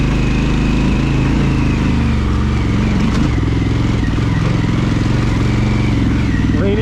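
A Harley-Davidson Pan America motorcycle engine runs steadily and loudly in first gear while riding an off-road obstacle, with a constant low throb and small throttle changes throughout.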